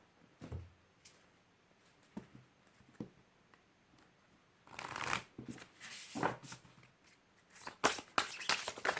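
Tarot cards being shuffled by hand before an advice card is drawn, with soft scattered riffles and taps early on, then longer, louder rustling bursts of shuffling close by, and no talk.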